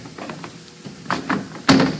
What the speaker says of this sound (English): And let me pull this door panel off.